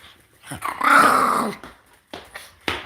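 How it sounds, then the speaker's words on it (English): A dog growls loudly in a sustained, rumbling snarl, followed by a few short sharp barks close to the microphone. "That dog is driving me crazy with his barking."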